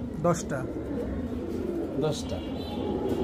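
Pigeons coo softly in the background, a few low murmuring calls under a steady hum, with people talking nearby.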